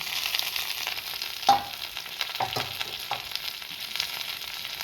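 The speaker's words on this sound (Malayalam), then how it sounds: "വെളിച്ചെണ്ണ ഒഴിച്ചു കൊടുത്ത് നമുക്കിതിലേക്ക് തേങ്ങ ഇട്ട് കൊടുക്കാം" Steady oily sizzling of grated coconut frying in coconut oil in a pan, with a few brief stirring clatters partway through; no voices.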